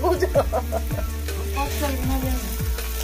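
Onions frying in a pot for a home chicken curry, a dense steady sizzle with rhythmic scraping strokes of a spoon stirring through them, close and continuous.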